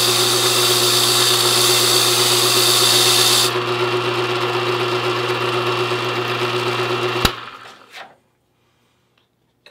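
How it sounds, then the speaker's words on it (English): A freshly cut key is deburred on a key-cutting machine, a loud steady motor whine and grind running close for several seconds, easing in pitch, then a sharp clunk as it shuts off into near silence. "and we're going to deburr it."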